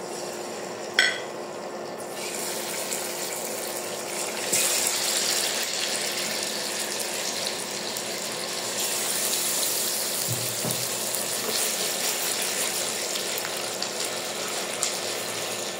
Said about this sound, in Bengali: তেল গরম হয়ে গেছে, এখন আমরা মাছটা দিয়ে দেবো